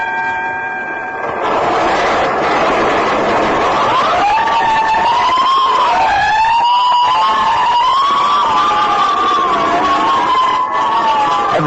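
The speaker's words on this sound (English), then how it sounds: "Every time I hear fire engines at night" Loud wailing fire engine sirens at night rise and fall continuously, several overlapping tones sweeping up and down with traffic rumble beneath.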